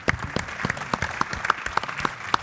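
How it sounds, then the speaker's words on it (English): Clapping from a modest audience at a live automotive industry event, a loose run of individual claps of moderate loudness with a faint murmur beneath. "Round of applause."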